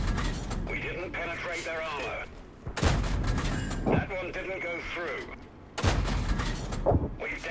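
Two heavy tank cannon shots in a video game land a few seconds apart, booming over engine and mechanical noise, while someone talks throughout.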